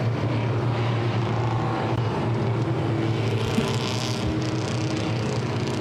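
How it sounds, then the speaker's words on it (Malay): Race cars roll out onto the track at a Malaysian circuit during the round 5 race, a continuous loud engine drone with distant rising and falling passes. No voices are heard. "Okay, all the cars are coming out."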